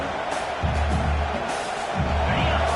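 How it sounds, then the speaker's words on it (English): A football stadium crowd roars to urge the home defense toward a red zone stop, a dense continuous wash of noise with low rumbling swells rising and falling. "This crowd is trying to inspire this defense to make a big red zone stop"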